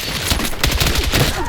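Rapid automatic gunfire from the video game Battlefield 6 rattles in dense, loud, continuous bursts throughout.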